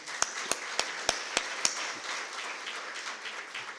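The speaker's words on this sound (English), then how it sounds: "give him a big round of applause" Audience applause at a business and governance event, opening with a few sharp, spaced claps that swell into a steady wash of clapping from a crowd, moderately loud and continuous without speech.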